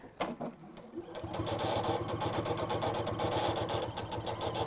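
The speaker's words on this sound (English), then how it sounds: "I know that I'm not working with a proper dukey bobbin and that's why it's making the noise, but it's still stitching fine." A sewing machine runs noisily with an improper bobbin, a fast clattering mechanical drone that starts after a few clicks and then stitches on continuously.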